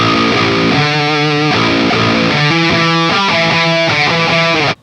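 Loud, heavily distorted electric guitar chords through a high-output Invader humbucker pickup with a thick, gritty tone, played in bursts with short rhythmic stabs, ringing out before stopping abruptly.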